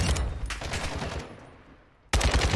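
Bursts of automatic gunfire from bots in the hardcore solo mode of the video game DMZ rattle loudly, fading out briefly before another close, heavy volley cuts back in.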